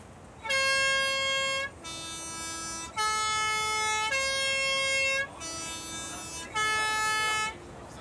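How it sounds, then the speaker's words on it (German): A Swiss PostBus sounds its multi-tone horn on a mountain road in the Rosenlaui valley, a loud, close three-note melody played twice with brief gaps between notes. "Und die Huperei ist sehr wichtig, weil wenn da ein Velofahrer kommt, ich habe nicht gehupt, dann habe ich ein Problem."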